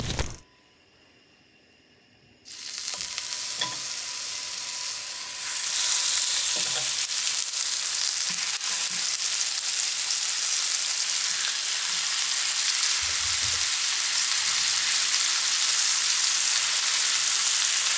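Burger patties for a loco moco fry in a cast iron pan. Quiet at first, then a strong steady sizzle starts and swells louder partway through, with a few soft knocks and no talking.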